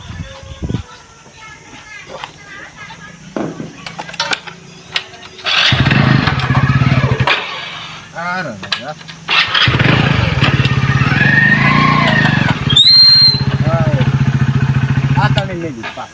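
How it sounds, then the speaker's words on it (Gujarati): A motorcycle is kicked over and its engine fires, stalls briefly, then catches again and idles loudly nearby in a village lane. Clatter and scattered voices sound around it. "બાઈક આગું લેવું પડશે."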